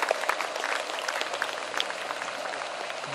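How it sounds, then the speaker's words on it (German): An outdoor audience applauds after a giant RC Hughes H-4 Hercules Spruce Goose model waterplane lands, dense steady clapping from a crowd held at an even loudness throughout. "Applaus, meine Damen und Herren."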